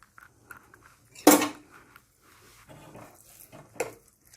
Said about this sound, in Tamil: இப்போது நம்ம தயிர் சாதம் கலக்க போகிறோம்.